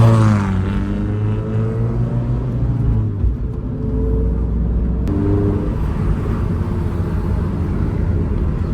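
Engine of a Toyota GR86 / Subaru BRZ on the move, with a loud rumbling exhaust, rising and falling revs and scattered pops and burbles as the throttle lifts, heard close from inside the car.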